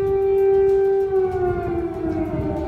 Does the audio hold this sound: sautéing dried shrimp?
no